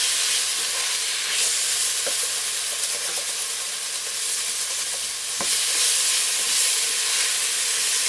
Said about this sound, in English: I'm going to cook these mushrooms and onions until I get a nice brown coloring on them.